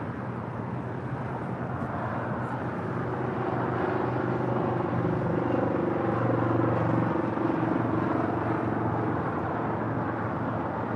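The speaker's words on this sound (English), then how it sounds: "That is that Virgin Atlantic flight coming in from London on that Dreamliner." A Virgin Atlantic Boeing 787 Dreamliner inbound from London taxis at an airport, a steady broad engine rumble with a low drone that swells slightly midway and holds without talk.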